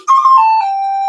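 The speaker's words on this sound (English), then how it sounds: "We have the little forest flute" A small wooden forest flute sounding one clear, loud, sustained note that slides slightly lower and holds steady, breathy and pure, played alone.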